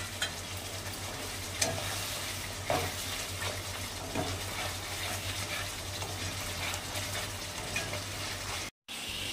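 Chicken masala with onion and cashew is sautéed in oil, giving a faint, steady sizzle broken by a few light stirring knocks against the pan and one brief dropout near the end.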